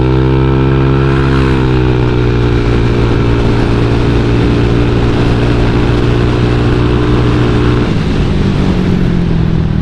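A motorcycle with a tuned carburetor jetting setup revs hard and loud close by, its engine note climbing steadily for about eight seconds before a sharp shift and a slight drop in pitch.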